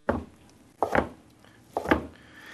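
Three firm knife chops through seitan on a cutting board, evenly spaced and close, each a sharp thud with no talking.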